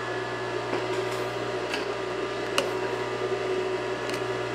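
A Juki DDL-5550 industrial sewing machine sewing denim slowly after a clutch cleaning, giving a steady motor hum with soft, evenly spaced needle ticks and an occasional sharper click, close and moderately loud.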